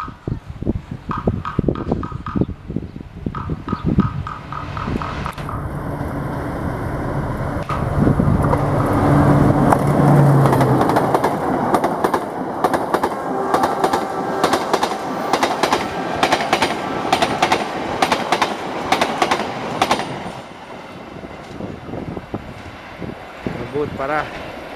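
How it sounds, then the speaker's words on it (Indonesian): The Argo Wilis passenger train, running from Bandung to Surabaya Gubeng, thunders past at speed: a loud, sustained rumble with rapid wheel clatter builds, peaks and rolls on for most of the pass. "Nah, ini Argo Wilis. Dari stasiun Bandung tujuan akhir stasiun Surabaya Gubeng."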